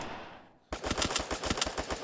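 Rapid automatic gunfire in a Garena Free Fire Clash Squad match bursts in loudly after a moment of near-quiet, then continues as dense, overlapping volleys of shots.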